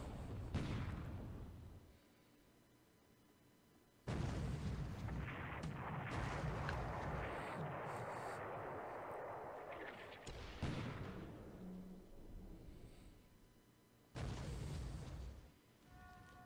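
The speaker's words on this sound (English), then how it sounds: "Pound on it with the, with the deck guns." Ship deck guns firing in a World War II naval strategy game, heavy booming salvos in several loud bursts with rumbling decay between them, no talking.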